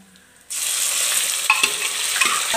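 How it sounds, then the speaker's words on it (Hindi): Saag greens tipped into a hot pan of reddened tempering start a sudden loud, steady sizzle after a brief quiet moment, with a few scraping stirs breaking through. "अब इसमें साग डाल देते हैं"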